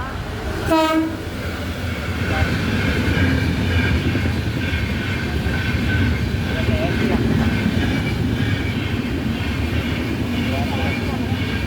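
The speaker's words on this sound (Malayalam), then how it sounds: "ഇത് AC ട്രെയിനാണ് കേട്ടോ." An AC passenger train passing close by, opening with a brief horn toot, then a loud, steady rumble and rattle of wagons rolling past for several seconds, with a voice talking over it.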